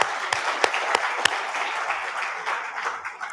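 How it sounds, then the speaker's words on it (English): A conference audience claps for the day's speakers, with a few sharp, distinct claps standing out early over a dense, steady ovation that slowly thins toward the end. "let's have a round of applause for those who've spoken so far"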